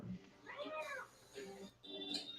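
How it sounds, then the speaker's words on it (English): A cat lets out several faint, drawn-out meows in a row, each rising and falling, with a quiet room background between calls. "It's a bad cat."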